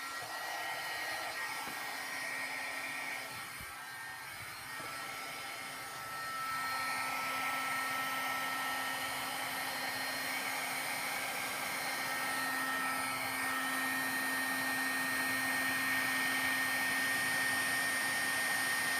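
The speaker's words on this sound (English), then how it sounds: "and then I'm gonna take my heat gun." A heat gun blows hot air over a distressed planner layout, a steady high whirring roar that holds for a long stretch, dips briefly, then continues evenly and close, with no talking.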